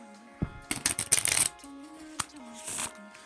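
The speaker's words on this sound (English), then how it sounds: "I'm gonna shuffle right now." A deck of question cards being shuffled close by, a quick rapid riffle and flutter lasting about a second, followed by softer handling taps with a faint hum underneath.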